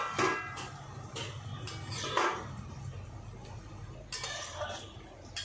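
Metal pot lid lifted and clinked while cooking a fig curry, a few light clinks and scrapes near the start and middle with a softer rattle later, quiet against a low kitchen hum.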